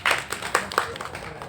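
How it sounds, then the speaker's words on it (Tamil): A few scattered hand claps from an audience at a Tamil film event, given for a co-producer; sparse, uneven claps of moderate loudness over a faint background murmur. "அதனால் அவருக்கு ஒரு கைத்தட்டல் கொடுத்துருவோம்."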